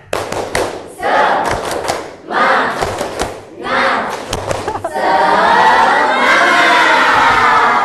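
A group in a lecture setting claps a rhythmic tepuk semangat cheer in bursts with shouted calls, then breaks into sustained loud clapping and shouting near the end.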